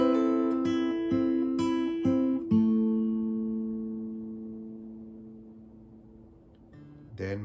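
Acoustic guitar plays bars 31-32 of a piece, with a few plucked notes and pull-offs in steady rhythm, then a long ringing note that fades, and a fresh pluck at the end.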